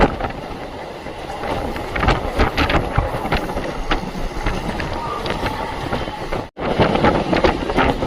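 A local train running through Kalwa station toward Thane, heard from on board as a continuous loud rumble with rhythmic wheel clatter and rattling, plus a brief dropout near the end.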